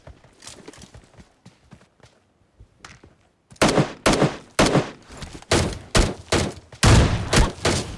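Gunfire from a shooting video game: sparse scattered shots at first, then a quick series of loud, sharp bursts that follow close on one another, with no talking.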